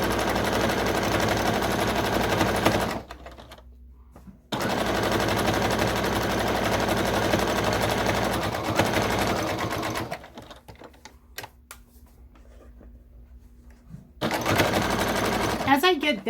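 A sewing machine stitches terry cloth for reusable sponges, running in loud, fast mechanical bursts separated by quieter pauses with faint handling sounds and a low hum.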